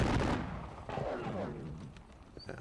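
Cannon fire in the Napoleonic wargame Austerlitz, a loud booming shot at the start that decays into a rumbling tail, with fainter crackles of gunfire following.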